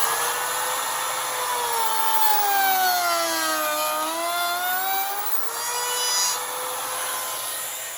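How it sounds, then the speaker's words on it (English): A power tool guided along a jig cuts and smooths the edge of a kayak crate rod holder, giving a continuous high whine whose pitch sags and rises with the load, close and loud and steady throughout. "The way the jig works, all I got to do is put this up against the edge here and it's going to cut it out nice and smooth"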